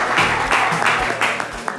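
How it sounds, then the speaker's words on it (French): Applause from the audience of a French variety show, a short, loud burst of clapping that surges in rhythmic waves for about two seconds. "Applaudissements pour Jean-Jean"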